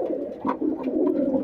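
Red-necked golalal pigeons in a large flock, several low overlapping coos rolling on continuously, fairly close.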